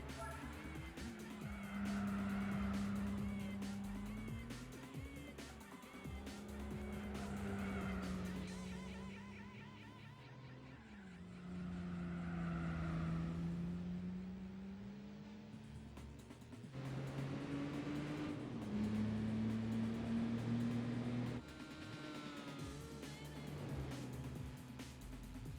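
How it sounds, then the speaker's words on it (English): Engines of race cars in Gran Turismo 4 at Monaco roar and whine through rising and falling gear changes as a Honda S800 is overtaken. The game audio is fairly faint, and a voice talks over it at times. "The Honda S800 is about to be overtaken."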